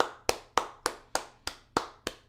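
Eight sharp hand claps in a steady, evenly spaced rhythm, close and fairly quiet, each one a crisp broadband snap with a short decay and no voices.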